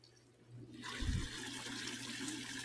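A spa's water feature switched to its high setting surges into a strong, steady rush of running water that swells and then holds at a constant level.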